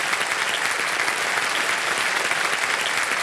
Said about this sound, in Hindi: आप सबको जोरदार तालियां बज जाए इनके लिए